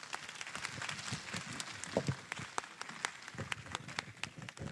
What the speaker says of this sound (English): Thank you for warm clap